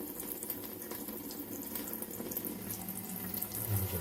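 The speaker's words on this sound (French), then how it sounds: "Là, j'éteins l'eau." Water running steadily from a tap fitted with a small instant water heater, a continuous close splashing stream into a sink, swelling slightly at the end.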